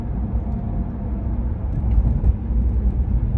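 Steady low rumble of a car being driven, an even road and engine drone heard from inside the cabin with no other sounds standing out.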